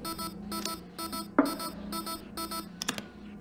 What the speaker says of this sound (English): get rid of the beeping